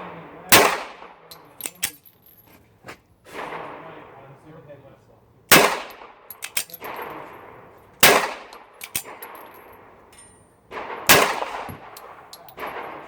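A .45 pistol firing 230-grain ball rounds at a 30-foot range: sharp, loud reports in quick clusters of two or three, separated by pauses with faint metallic clinks and brief talk.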